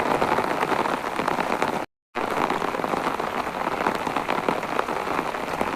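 Heavy rain in Dhaka pours steadily in a dense, loud hiss of drops on surfaces, broken by a single short dropout before resuming unchanged, with no talking.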